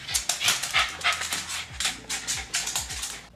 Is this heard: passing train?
no